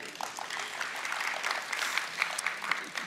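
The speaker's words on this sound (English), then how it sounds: "Thank you for that smattering of applause." A conference audience at a developer talk gives a light smattering of applause, soft, scattered claps spread across the room and heard at a distance for a few seconds.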